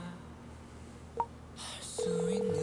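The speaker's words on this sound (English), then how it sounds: "I can hear Father pick up the phone receiver and press the call button." A landline phone receiver lifted with a brief click, followed by a short button press and a steady electronic tone, all quiet and close in an indoor room.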